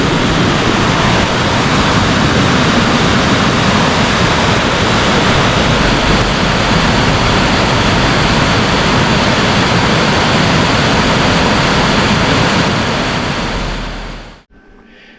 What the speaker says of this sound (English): A bit more water in the river than there was the other day when we had a look.